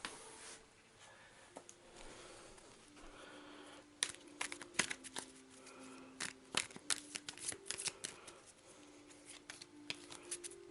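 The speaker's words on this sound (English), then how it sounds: "I do apologise for me shuffling." Playing cards being shuffled for a Touch of Evil board game, a run of quick crisp riffles and snaps close by, growing busier and louder in the second half, with no talk.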